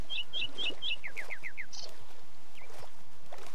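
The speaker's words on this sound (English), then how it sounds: "Hey, it's a whippoorwill bird." Whippoorwill bird calls in the Minecraft video game: a run of quick, repeated high chirps at moderate level, followed by a few scattered softer chirps, with no talking over them.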